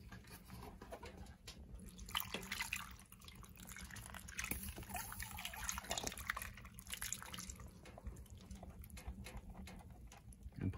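Beef broth pours into a cast iron pot at a winter camp inside a hot tent, making soft, faint splashing and dripping patter that runs unevenly throughout.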